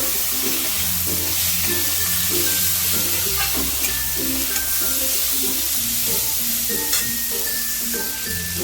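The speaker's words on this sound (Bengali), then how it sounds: "কপি ডাটাগুলোকে দিয়ে দিলাম দিয়ে একটু নাড়াচাড়া করে নেবো" Cauliflower stems fry in hot oil for a mixed vegetable curry, a continuous close sizzle with the clatter of stirring throughout and no talking.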